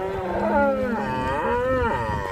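Several cows moo loudly and close by at a cattle market in Chintamani, their long low calls overlapping and rising and falling across the whole stretch.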